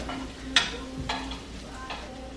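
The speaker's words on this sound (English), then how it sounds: "I'm gonna put the sweet potato fries in the coconut oil just for some different flavor" Sweet potato fries cooking in coconut oil alongside a burger on a stovetop, giving a steady soft sizzle with a few sharp clicks of stirring or utensil contact, close and alone without talk.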